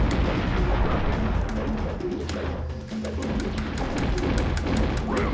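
Enemy gunfire in the Batman Forever arcade game, a dense relentless barrage of rapid shots and blasts over a rumbling game soundtrack, loud throughout.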